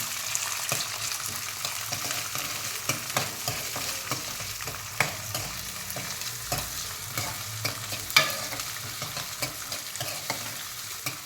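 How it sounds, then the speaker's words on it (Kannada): Green chillies and corn frying in a pan for capsicum Schezwan fried rice, a continuous sizzle broken by regular scraping stirs and occasional sharper clinks of the spatula, close up with no talking. "ಗ್ರೀನ್ ಚಿಲ್ಲಿ ಸೇರಿಸಿ ಮಾಡೋಣ. ಸ್ವಲ್ಪ ಫ್ರೈ ಆಗಲಿ."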